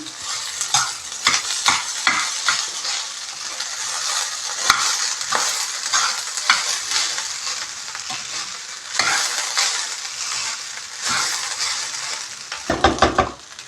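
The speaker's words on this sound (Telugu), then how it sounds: "మొత్తం మసాలా అంతా కూడా దీనికి పట్టేలాగా కలిపేసుకోవాలి మొత్తం." Vegetable fried rice being stirred and tossed with masala in a hot pan: continuous sizzling with repeated scraping spatula strokes and utensil clinks, loud and close, with a clatter of metal at the end.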